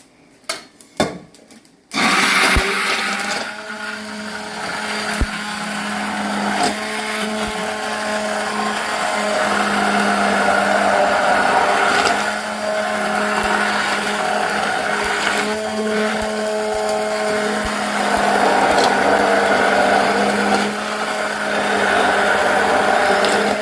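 A mixer grinder runs loud and continuous for about twenty seconds, blending boiled toor dal cooked with turmeric, after a few short clatters at the start.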